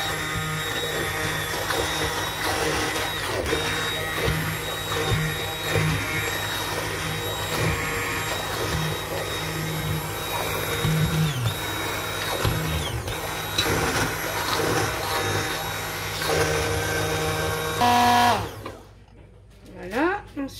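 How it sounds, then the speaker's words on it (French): A blender purees a budget soup made from canned food, running loud and steady for about eighteen seconds with a constant whirring hum, then switching off into near silence. "je vais mixer"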